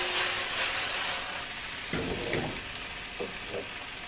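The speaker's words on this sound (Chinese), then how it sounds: "我准备用锅热饭" Rice being reheated in a pan, giving a steady soft sizzle with a few louder stirring scrapes near the middle and end.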